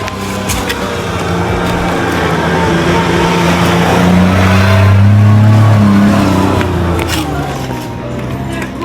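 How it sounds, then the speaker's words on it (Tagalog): A car passing along a road near a hot spring river in Laguna, engine swelling as it comes close, peaking midway and fading away, with faint voices in the background. "may dadaan na sasakyan"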